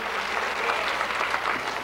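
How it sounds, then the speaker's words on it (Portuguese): A church congregation claps in brief, steady applause, a dense patter of many hands close by and lasting under two seconds. "Um aplauso para o Senhor."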